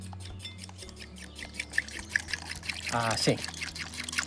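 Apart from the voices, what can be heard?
milk being poured into a bowl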